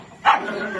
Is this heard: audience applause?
no